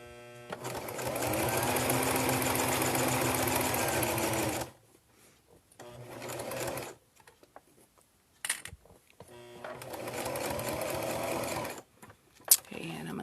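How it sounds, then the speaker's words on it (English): A sewing machine stitches slowly over a fabric seam, running in several bursts of steady mechanical whirring and clatter, separated by pauses with a few clicks, close and moderately loud, with a person speaking between runs. "Slowly, manually sew over the seam."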